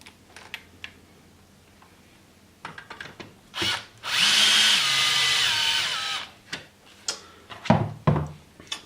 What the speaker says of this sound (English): Just going to put 2 screws in just so I can get on with things.